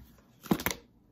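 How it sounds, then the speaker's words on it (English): Tarot cards shuffled by hand in a short burst of riffling, two quick close flurries of papery slaps and rustle with no talking over them. "I'm going to do the five shuffles and take the top"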